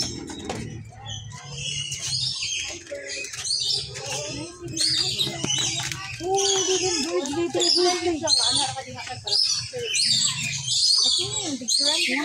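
Birds at a safari park in Cebu chirp and tweet in quick, overlapping calls close by, with bursts of wing flapping and people chatting throughout.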